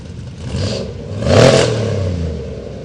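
An off-road race truck in the heavy-metal 6100 class revs hard at the Norra 500 start line, its engine roar rising to a loud peak mid-clip and then holding a steady, close growl.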